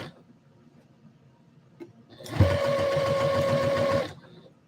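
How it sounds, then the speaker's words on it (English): An overlock serger sewing machine whirs steadily for about a second and a half, then stops, with a sustained mechanical hum and a faint rhythmic stitching beat running underneath. "Hopefully the serger wasn't too loud for you guys."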